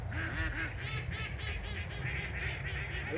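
Ducks quacking outdoors near a fishing spot, a continuous run of repeated nasal quacks at moderate distance over steady background noise.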